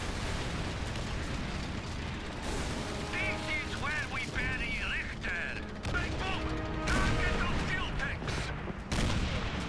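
Call of Duty 3 gunfire in a dense stretch of game combat: continuous rattling shots and mechanical clatter with tonal effects, loud and busy throughout, voices mixed into the noise.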